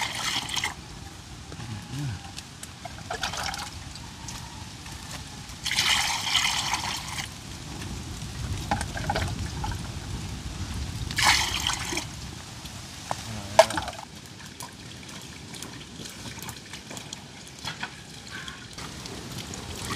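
Water poured and trickling over food being washed in a pot for Jamaican rice and peas with ackee and saltfish, in uneven splashy bursts, with someone talking intermittently over it.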